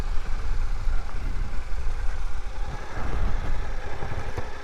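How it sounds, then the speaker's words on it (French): A Suzuki V-Strom 800 DE adventure motorcycle engine runs quietly at low revs during a slow U-turn, a steady muffled rumble with a continuous noisy wash and no speech. "Le moteur il est ultra silencieux."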